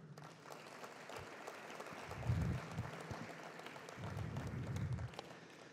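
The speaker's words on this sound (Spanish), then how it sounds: "para quienes pido un aplauso" An audience at an oil and gas summit claps, a quiet, distant patter of applause running throughout, with low rumbling bursts and faint voices underneath.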